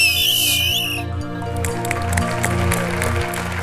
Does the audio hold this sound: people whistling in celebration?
yes